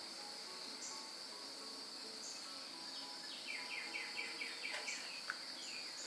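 Crickets trill in a steady, faint chorus outdoors at sunset, with a few soft bird calls and chirps rising briefly above it and no voices.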